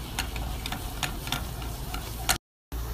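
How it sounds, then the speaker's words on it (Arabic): Flour stirred into melted butter in a small pot, a low steady sizzle with repeated soft scraping strokes close by, cut by a brief silent gap near the end. "في قدر صغير سيحت الزبدة، هضيف الدقيق"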